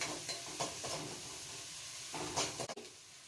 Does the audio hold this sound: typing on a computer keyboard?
no